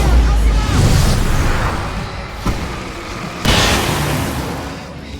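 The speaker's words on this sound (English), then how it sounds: "I can set off one fireworks!" Fireworks go off in the video game Alan Wake Remastered, with a couple of sharp booming bursts ringing out over a rumbling background of game sound and noise.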